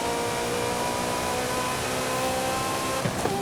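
Engine of a 1984 Ferrari 288 GTO in the racing game Forza Horizon 5, a dense, steady drone holding at a constant pitch throughout, loud and close.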